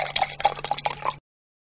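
Pebbles drop one after another into a water-filled vessel, about five bright plinking splashes in quick rhythm, close and clear, before the sound cuts to silence.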